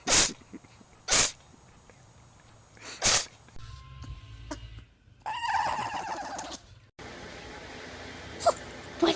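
Animals sneezing in a compilation, several sharp, loud bursts in quick succession, followed by other short snorting and rustling sounds with background noise.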